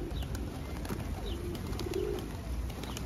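Pigeons cooing outdoors, soft low coos recurring under a steady background murmur, fairly close and moderately quiet.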